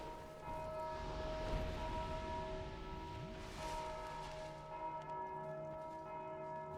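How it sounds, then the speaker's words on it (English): Church-like bells toll in the Dark Souls 2 video game, a sustained, layered ringing with steady harmonic tones that carry through the whole stretch at moderate level, with no talking. "Need to be more careful around these bells."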